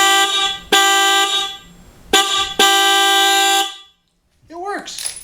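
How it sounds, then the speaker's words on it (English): Fiamm Freeway Blaster low-tone horn fitted to a KLR650 motorcycle, sounding in three loud, steady honks of varying length, followed by a brief voice at the end. "now that our horn is hooked up here, we can test and see what's going to work"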